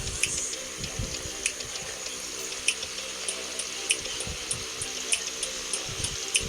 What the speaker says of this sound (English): Let's just go wash our hands.